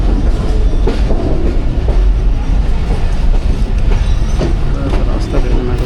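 Inside the Pakistan Express running toward Wazirabad Junction on a rainy early morning, a loud continuous rumble of wheels and carriage with rhythmic clickety-clack joints. Faint voices sit under the roar.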